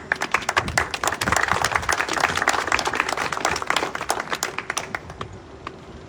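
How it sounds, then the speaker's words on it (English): Audience applause at a Camp Hale–Continental Divide national monument press conference, a steady burst of many hands clapping that thins out toward the end as a voice resumes speaking. "your applause reminds me,"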